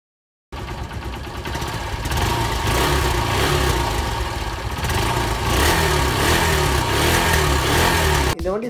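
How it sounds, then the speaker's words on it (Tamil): A Honda CB Unicorn 150 motorcycle engine starts after a brief silence and settles into a steady, smooth mid-pitched idle with slight rises in revs, heard close and alone. "இந்த வண்டி ஸ்டார்ட் பண்ணோம் அப்படின்னாலே வந்து இந்த வண்டியோட இன்ஜின் வந்து ரொம்ப ஸ்மூத்தாகவே ரன் ஆகுது"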